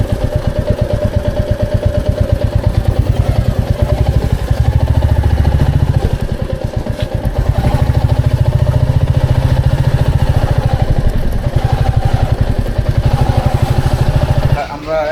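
A motorcycle engine running in a Bangladesh highway traffic jam near Gazipur, a loud close rumbling putter with brief throttle swells, continuous for about fifteen seconds with a rider talking over it.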